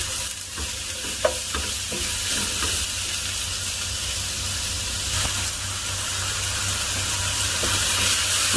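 Mushrooms sauté in a pan for a creamy Tuscan chicken, giving a loud, close, unbroken sizzle and hiss with occasional light spatula taps and stirring scrapes, no voices.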